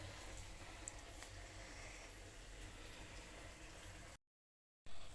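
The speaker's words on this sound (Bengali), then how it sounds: "বেগুনি ভাজা হচ্ছে।" Eggplant fritters (beguni) deep-fry in hot oil with a steady, dense sizzle that stays even and close, then stops briefly before resuming.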